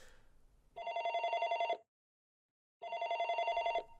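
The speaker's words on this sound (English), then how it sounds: "A phone is ringing." An old-style telephone bell trills in pitch darkness, two evenly spaced rings of about a second each separated by a silent gap, clear and isolated.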